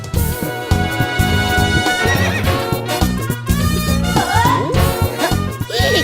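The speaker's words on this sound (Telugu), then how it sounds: "ఎవడన్నా గుర్రం ఎక్కుతాడు, వీడేంటో గుర్రాన్ని ఎక్కించుకున్నాడు." A horse whinnies with wavering cries over a busy, rhythmic background of other sound in a comedy scene.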